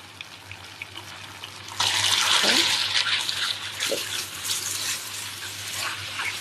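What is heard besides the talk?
kway teow noodles frying in hot oil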